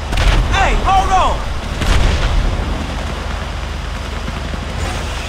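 A tank cannon fires in GTA V, a deep booming blast with a rumbling tail, followed by another heavy boom about a second later, over continuous loud game noise.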